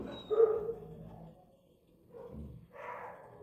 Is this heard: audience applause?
no